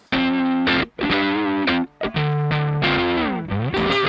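An electric guitar played through a GP-200 running a Fender Deluxe Reverb amp model rings out in a few loud, close, driven phrases, sustained notes and chords with bends, separated by short gaps.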